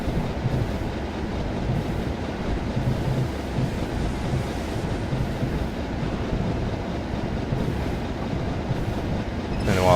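A steam train in the Train Simulator 2015 video game rumbles steadily with a continuous low roar and faint clanking for the full length, without speech.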